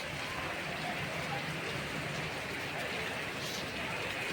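Heavy rain pours down steadily over Gulabnagar, a continuous broadband wash with no breaks, heard fairly quietly and from some distance.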